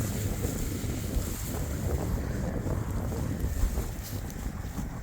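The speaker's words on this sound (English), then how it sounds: "And extremely windy." Strong wind gusts across an alfalfa hay field on a hot day, blowing as a steady broadband roar with heavy low buffeting on the microphone, loud and continuous without talk.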